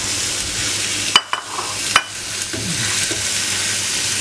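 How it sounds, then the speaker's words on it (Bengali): Fish kofta balls made from foli fish drop into a pan of hot oil, bringing a loud, steady sizzle broken by a couple of sharp plopping hits and scraping stirs, with no voices. "এখন এই বড়াগুলি এটা মধ্যে ঢেলে দেব।"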